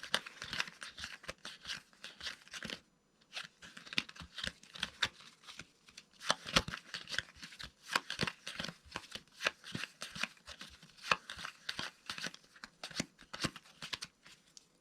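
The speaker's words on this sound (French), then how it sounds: "je vais mélanger le paquet" A deck of playing cards being shuffled repeatedly for a magic trick, producing close, crisp riffling and flicking bursts in a steady rhythm with brief pauses between shuffles, with no talk.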